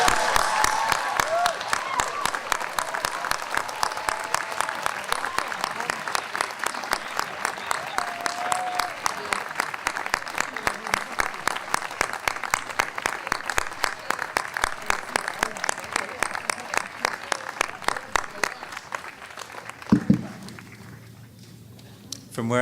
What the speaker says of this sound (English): we ought to have a similarly rousing round of applause for your parents, grandparents, guardians, and friends.